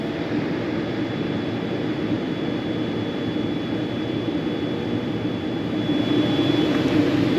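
Steady, loud engine drone fills the cabin of an Air India airliner shortly after takeoff, a constant low roar and hiss with no talk, rising slightly near the end.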